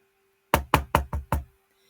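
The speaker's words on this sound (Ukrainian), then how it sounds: "чемно у ворота своїм маленьким дзьобиком постукав" A small bird's beak knocks on a gate as a storybook sound effect: five crisp, evenly spaced wooden taps in quick succession, close and dry, with silence around them.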